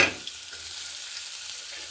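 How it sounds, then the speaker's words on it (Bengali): Chopped onion sizzles in hot oil after a five-spice tempering, with a steady, close hiss and a brief stirring scrape at the start, while cooking a crab curry. "পেঁয়াজটা ভেজে নেবো"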